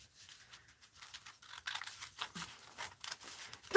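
Paper journal pages being cut with scissors, a run of soft, crisp snips and rustles at close range, spaced irregularly and growing a little louder toward the end, with no voices.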